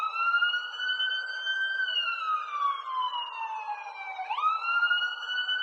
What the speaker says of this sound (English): underneath that, I have a couple police sirens